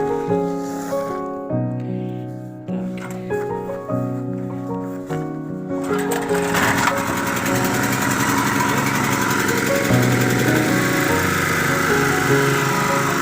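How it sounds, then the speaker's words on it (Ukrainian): A Honda EM6500CXS 6.5 kW petrol generator runs steadily with an even, buzzing engine drone, close and loud, after an uneven, tonal start in the first few seconds. "Генератор. Рівномірно робить, бачите?"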